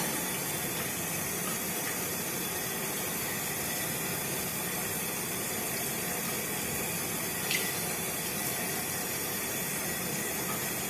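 Steady running water from a tap splashes continuously and evenly, fairly close, while a bar of homemade goat's milk soap with honey, oats and turmeric is washed under it, with no talking.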